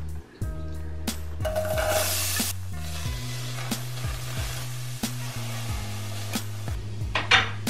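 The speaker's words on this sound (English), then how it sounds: "So you want to let that saute for just about 5 minutes." Diced onions and tomatoes sautéing in a frying pan, a close hiss with bursts of sizzle and clinks of a utensil against the pan, over a steady low hum, with no talk.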